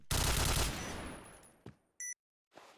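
Gunfire in a bomb-defusal video game match, heard as a short, loud burst of rapid shots that fades out, followed by a brief electronic tone and a fainter sound at the end.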